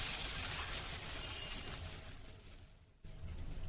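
Water pours steadily into a hot pan of toasted lentils while making upma, a continuous rushing gush that briefly cuts off and then resumes, close and fairly loud.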